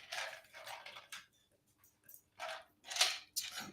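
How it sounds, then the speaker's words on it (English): A dog indoors gives a handful of short, faint barks and whimpers in separated bursts with quiet gaps between them, heard close but at low volume. "The dog likes to follow my kitty cats around."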